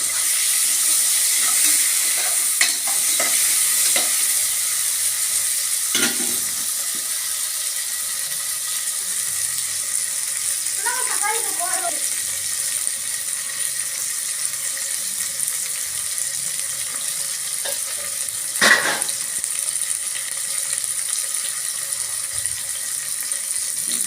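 Onions and chopped tomatoes sizzle in a pan for coconut milk rice, a steady hiss of frying broken by a few scrapes and clinks as they are stirred.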